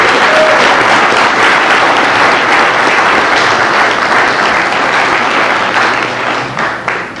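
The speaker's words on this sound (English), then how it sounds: "Round of applause for organizing this" Sustained, dense applause from an audience at a contractors' day event, steady and loud for several seconds before thinning slightly at the end.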